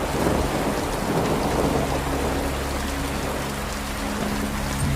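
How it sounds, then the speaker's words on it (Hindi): Rain falls steadily at night near a graveyard under cloudy skies, a dense even hiss of drops on surfaces with a low rumble underneath, continuous and moderately loud, with no voices. "बादल हैं, बूंदाबांदी हो रही है"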